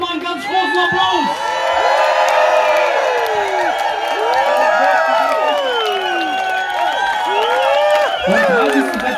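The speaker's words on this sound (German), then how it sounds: "gib dir mal einen ganz großen Applaus" A festival crowd at a rock and roll event roars with cheers, whoops and shouts over clapping, loud and continuous throughout with voices calling out across the mix.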